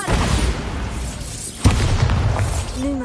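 A Bombarda blasting spell explodes in Hogwarts Legacy, one sharp loud boom with a brief crackle amid a rumbling game ambience.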